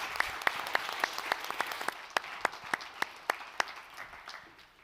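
Audience applause at a beer industry conference livestream after the finalists' pitches: a crowd of clappers with distinct sharp claps standing out, fading toward the end.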